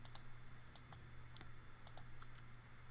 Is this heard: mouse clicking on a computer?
yes